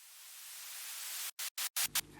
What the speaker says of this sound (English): And then I added this pink noise from the Cymatic pack